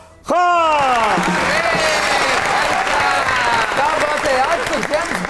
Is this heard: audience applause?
yes